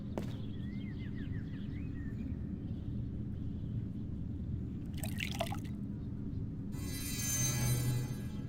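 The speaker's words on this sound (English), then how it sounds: "I poured the water into the bowl." Water poured into a bowl in the video game Black Mirror, a soft continuous trickle and drip under a low ambient hum, with a brief splashy burst midway and a brighter rush near the end.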